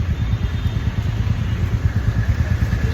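A motorcycle engine runs close by with a steady low, throbbing putter throughout, as if ridden slowly or idling before being parked.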